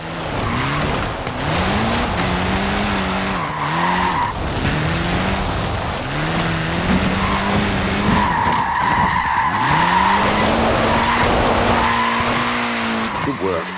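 Tyres squeal and skid repeatedly on a small Mini in the Forza Horizon 4 racing game, long wailing screeches rising and falling over the engine, with a voice talking throughout.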